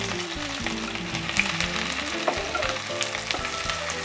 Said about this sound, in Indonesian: Saya masukkan dulu bawang merah, bawang putih yang sudah dirajang atau diiris tipis.